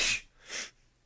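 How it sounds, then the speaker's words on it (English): A person sneezes twice in quick succession, close and fairly loud, each a sharp breathy burst with no talking around it. "I'm gonna sneeze."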